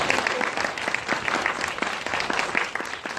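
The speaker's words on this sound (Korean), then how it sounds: "박수 한번" An audience at a Q&A screening of the film Her Hobby gives warm, even applause for author Seo Mi-ae, a continuous patter of many claps at moderate volume.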